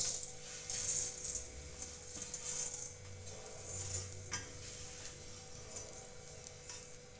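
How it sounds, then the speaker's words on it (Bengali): Vermicelli is tipped into hot homemade ghee in a pan and stirred, giving faint scraping, rustling and light clinking sounds with a soft sizzle, quiet and close throughout. "ওই ঘিয়েতে এবার আমি সিমইগুলো দিয়ে দিচ্ছি।"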